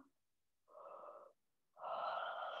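Someone yawns audibly during a gentle yoga stretch, with two drawn-out breathy exhalations separated by a short pause, the second longer and stronger, close and without talk.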